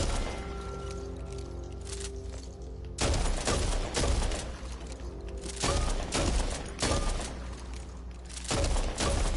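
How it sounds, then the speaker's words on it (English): Repeated booming blasts from an 870 pump-action shotgun in Back 4 Blood, spaced about a second apart, loud and close, with each shot followed by a short ringing tail and mechanical clatter. "this gun is probably the best of the traditional pump action shotguns"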